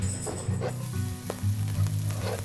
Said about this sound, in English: Let that sizzle a little bit